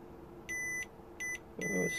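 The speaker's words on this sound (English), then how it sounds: "So let's kinda check for continuity in there." Continuity beeps from a multimeter probing a relay leg during a 2014 Volvo XC60 electric window repair: three short, steady electronic tones, the last overlapping a brief low rumble of handling noise.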